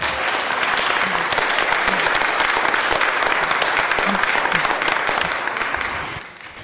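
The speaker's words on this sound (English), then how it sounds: "So if you can give her a round of applause, please." At a Board of Supervisors meeting, an audience gives a sustained round of applause, dense steady clapping filling the room for several seconds before tapering off at the end.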